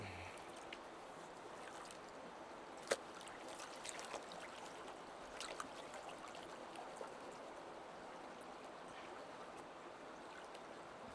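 River water flows and washes through a gold pan, a steady close rushing and trickling with an occasional small knock, no talking.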